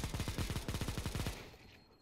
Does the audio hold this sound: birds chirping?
no